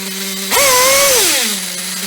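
A small nitro engine being tuned, a buzzing idle that jumps sharply into a high, rising whine for about a second, then drops back to the idle buzz.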